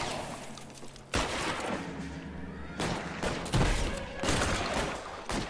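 Repeated gunfire rings out during a shootout in the 1940s detective game LA Noire, with sharp shots in irregular bursts over steady background noise and clattering bangs toward the end.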